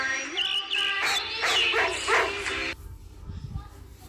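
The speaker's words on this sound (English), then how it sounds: "D for dog." Dog barking in a children's alphabet lesson, a few yappy, whimpering barks close up, ending abruptly, with a faint low sound after.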